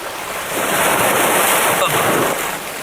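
Sea water surging and splashing as waves break, a loud, continuous rushing wash mixed with wind noise that swells and eases slightly without any talking.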